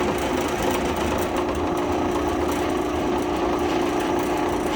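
A drill press drills into an engine block held in a hold-down fixture, giving a steady, loud motor whine and grinding hum that runs unbroken at close range.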